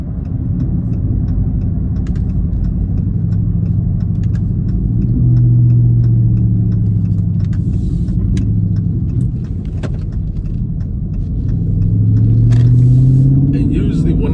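A car with paddle shifters cruises in 7th gear at about 40 mph, its low engine and road drone steady and loud throughout while someone talks over it.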